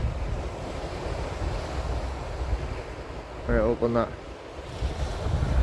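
Waves wash continuously onto a beach on the Northumberland coast, a broad rushing surf mixed with wind noise, and a voice speaks briefly over it.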